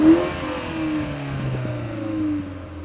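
A 2022 BMW 430i Gran Coupe engine turns over and settles into a steady idle, a low hum with rising tonal whine, close by and moderately loud.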